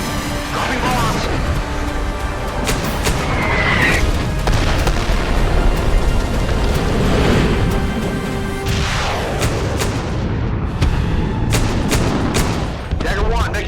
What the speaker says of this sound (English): Smoke in the air, dropping flares. Dropping bombs.